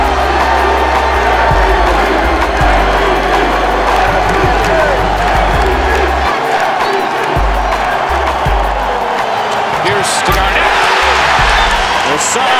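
A basketball arena crowd of Celtics fans roars and cheers loudly and continuously, with shouts rising through the din and a commentator speaking over the noise.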